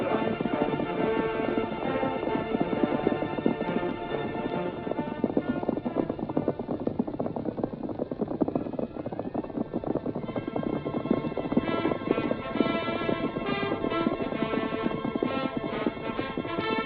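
Several horses gallop without a break, their hoofbeats a dense, steady drumming that lasts throughout. A whinny sounds now and then, and the whole thing is loud and continuous under old-time radio-drama audio.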